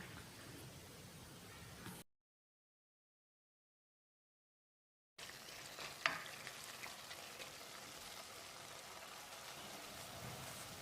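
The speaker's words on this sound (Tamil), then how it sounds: "குறைஞ்ச தீயிலேயே ஒரு 2 நிமிஷம் இதை நல்லா பிரட்டி விடணும்." Ground paste stirred and fried over low heat in a pressure cooker for moong dal pulao, a steady close sizzle with a scraping stir, cut by a stretch of silence partway through.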